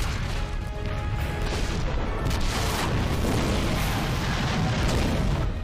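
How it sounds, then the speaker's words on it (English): A bomb blast at a weapons depot in a Star Wars: The Clone Wars animated episode, a loud, sustained rumbling explosion with crackling debris that roars on for several seconds without fading. "one bomb did all that?"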